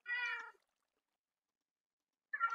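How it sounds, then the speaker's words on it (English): A kitten meows in Minecraft, two short, bright, high-pitched mews, one at the start and another after a couple of seconds of silence. "Oh, we got a little small cat."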